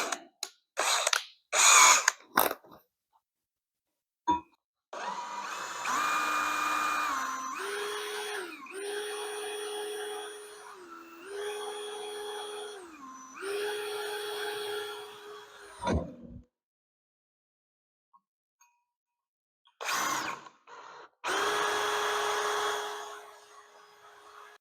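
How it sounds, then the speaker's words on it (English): A power drill bores small pilot holes in steel during forklift trailer hitch fabrication, giving several sustained whining runs that rise and dip in pitch, separated by short pauses and clunks, loud and close. "we're going to go ahead and drill a small pilot hole in there"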